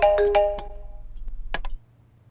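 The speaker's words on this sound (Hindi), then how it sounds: "तुम्हारा फोन रिंग हो रहा है" A mobile phone rings nearby with a few bright chiming tones in quick succession, a short pause, then two more chimes before it cuts off.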